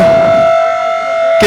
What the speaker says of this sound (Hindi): कितने बड़ा सायरन वो लगाया गया है